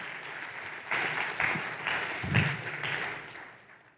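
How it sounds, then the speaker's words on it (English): An audience applauds with steady clapping that swells in bursts and then tapers off, with light voices mixed in. "thank you for the gentlemen for getting us a second round of applause"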